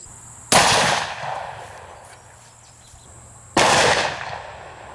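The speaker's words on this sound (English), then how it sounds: "Let's shoot it one more time." Two loud, sharp Desert Eagle .50 AE hollow-point shots fired into a bowling ball outdoors, a few seconds apart, each a sudden crack with a ringing tail that fades, and quiet ambience between.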